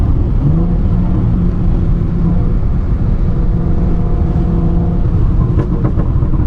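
A 430 hp all-wheel-drive Audi S4 accelerates with a deep, steady exhaust burble and rising engine tones, heard from inside the car at close range.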